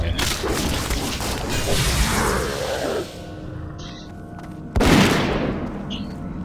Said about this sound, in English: all I can hear is that bloody gun